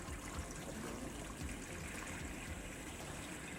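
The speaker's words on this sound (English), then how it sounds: "please pour that blue water into one side" Colored water splashes and trickles steadily into a container during a classroom salt-water and fresh-water mixing demonstration, a continuous soft gushing with no talk over it.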